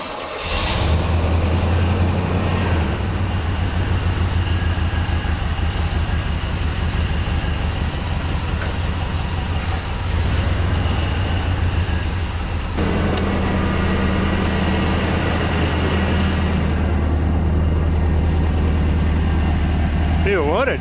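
A 1984 Monte Carlo SS with a carbureted pushrod V8, started after sitting 22 years, cranks and catches, then idles with a loud, steady low rumble throughout.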